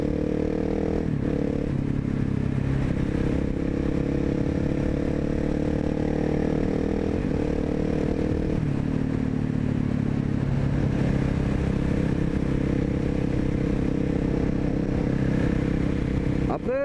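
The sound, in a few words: KTM 690 SMC supermoto motorcycle engine revving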